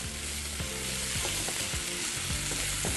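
Steady loud sizzling of bacon and onion frying in a hot pan, with repeated scraping strokes of vigorous stirring throughout.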